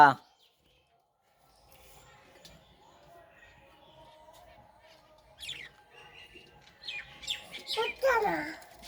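Small caged birds give scattered high chirps and tweets, sparse at first and growing busier toward the end, heard close by in a quiet room.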